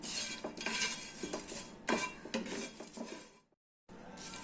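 Whole spices are dry roasted in a pan for curry masala powder, with repeated close scrapes and clinks of a metal spoon stirring against the pan and a brief silent gap near the end.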